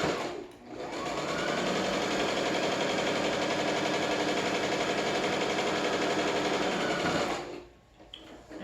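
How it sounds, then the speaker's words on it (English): A sewing machine runs a steady straight seam across a fabric face mask, a loud continuous whirring motor hum that starts quickly, holds evenly for several seconds, then stops. "just sew a straight line just to make sure I close the little gap that I have there"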